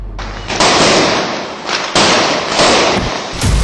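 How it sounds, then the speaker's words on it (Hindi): Firecrackers go off during a Diwali evening in dense, loud, overlapping crackling bursts with a sharp bang near the end, and a gunshot is lost among the blasts; no voices are heard. "मैं जानता था कि दिवाली के शाम में पटाखों के बीच गन की आवाज़ कोई सुनेगा ही नहीं।"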